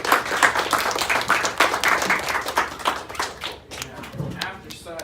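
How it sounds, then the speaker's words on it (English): A public speaking class audience claps, close and lively with uneven bursts and individual sharp claps, tapering but continuing through the end. "Big round of applause for everybody"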